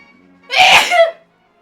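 A single sharp human sneeze bursts out close and loud, lasting under a second, surrounded by near silence.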